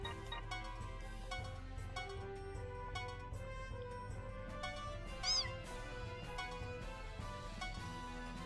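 Cat meowing after being kicked in Disgaea 4, a short mewing cry rising briefly over dense, continuous game music.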